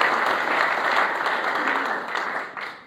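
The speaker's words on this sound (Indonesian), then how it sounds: "Tepuk tangan sekali lagi buat Tuhan." Congregation applauding for God during an Indonesian church sermon, a dense burst of many hands clapping at once, fairly loud and fading a little toward the close.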